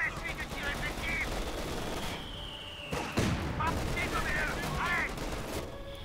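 Gunfire from the video game Company of Heroes 2 rattles in sustained bursts alongside a heavy impact midway, with radio-style voice chatter in French layered over the combat.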